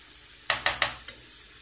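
Salt being mixed into a marinated artichoke salad: three sharp, close scraping clinks of a utensil against a bowl in quick succession, then one fainter tap, with quiet in between.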